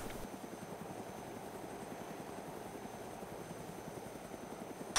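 Helicopter in the video game DayZ Origins, a steady rhythmic rotor chop at moderate distance, fairly quiet and continuous throughout, with no talking over it.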